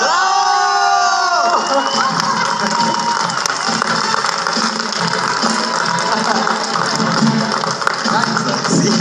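A crowd at a song contest gala cheers and applauds the grand prix winner, loud and continuous, with whoops and shouts over sustained musical tones.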